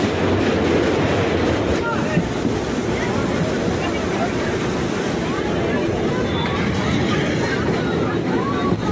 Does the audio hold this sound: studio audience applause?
no